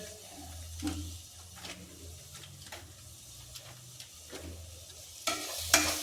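A spoon stirs chilli powder into a chicken biryani curry in a pan, giving soft repeated scraping strokes over a low, quiet sizzle. Close and faint, with no voices.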